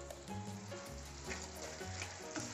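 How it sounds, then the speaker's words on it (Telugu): Boiled potatoes sizzle as they fry in manchurian sauce in a pan, with steady crackling and low stirring scrapes throughout, close and fairly loud, with no voices. "మనం ముందుగా రెడీ చేసుకున్న పొటాటోస్ వేసేస్తున్నానండి. పొటాటో మొత్తం వేసేసుకున్నాను. మంచిగా కలుపుకోండి."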